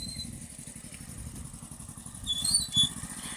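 A motorcycle ridden along a rural road to Beerpur village, its engine a steady low drone throughout, with a brief louder swell near the end and no talk.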